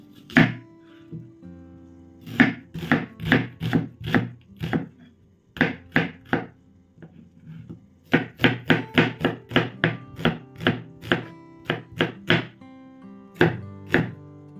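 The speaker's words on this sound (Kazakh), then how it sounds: "Ол үшін бізге керегі 2 пиязымызды турап аламыз." Two onions chopped with a knife on a board for the Kazakh dish zhaima: a long run of crisp, close, rhythmic chops in quick bursts with short pauses between them.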